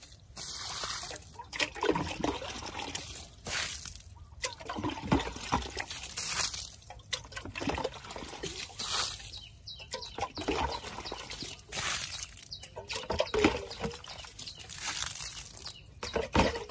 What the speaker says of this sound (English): Watering.